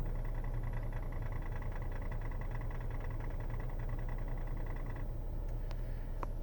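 Ford Taurus X idling with a faint, regular ticking tied to the transmission, a soft steady tick riding over a low engine hum, recorded close with no talking.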